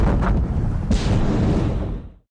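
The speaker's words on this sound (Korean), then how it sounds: "폭발의 여파는 탄광 안에 있던 소우고와 카온에게까지 닿았고" A mine blast in an animated film: a deep rumbling roar with a sharp burst near the middle, loud and close, rolling on before cutting off abruptly.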